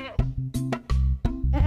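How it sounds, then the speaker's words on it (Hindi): A goat bleats in a rapid series of short, close, loud cries, with no other sounds in between. "बकरी।"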